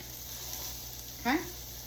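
Vegetables hit a pan of pork chop drippings and butter, giving a brief, fairly quiet sizzle burst over steady background noise, with a person talking nearby.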